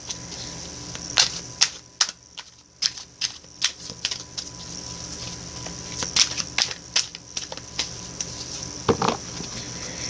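Tarot cards riffled and shuffled in a series of crisp, papery bursts and taps, close and fairly quiet, with short pauses between bursts and no talking.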